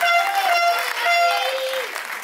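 Applause from the audience at a Lady and Lord pageant evening on Réunion, a steady wash of clapping with tonal sounds over it.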